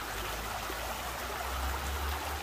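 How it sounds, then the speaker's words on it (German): A small brook flows steadily beside Zobelschloss castle in Darstadt, Ochsenfurt, a continuous rushing, trickling wash of water with a low rumble underneath, close and unbroken, with no voices. "Es ist ein Bach."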